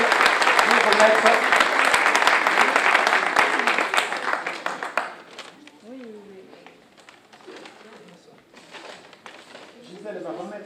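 An audience at a town medal ceremony gives dense applause for about five seconds, which then stops abruptly, leaving quiet room sound and a few soft voices.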